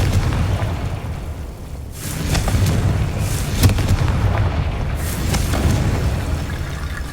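Fiery spell blasts from the Confringo curse in the video game Hogwarts Legacy, several booming bursts over a dense rumbling game mix, loud and close, with no talking.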